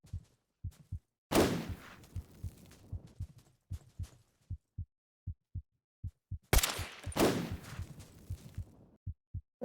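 Gunfire in a video game: two loud, sharp blasts ring out and decay, set over a steady, close thumping heartbeat, with no talk.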